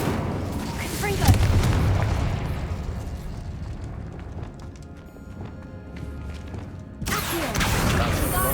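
A Confringo blasting spell exploding in the Hogwarts Legacy video game, a loud booming burst followed by a rumbling decay and clattering debris, then a second blast rising near the end.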